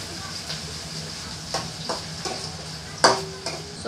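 Two medium onions and garlic sautéing in a pan for tilapia sarciado, a low steady sizzle with a few brief clinks and stirring scrapes standing out, while a voice talks quietly underneath.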